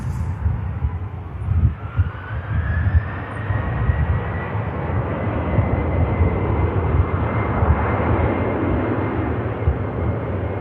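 An IndiGo airliner touches down at Manchester Airport with a continuous, fairly loud jet roar and rumble that holds steady throughout, carrying a faint whine and no voices.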